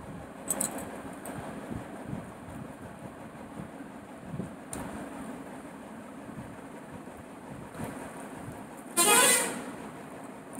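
A bus goes by amid traffic, quiet road rumble broken by a few short toots early on and a loud, sustained horn blast near the end.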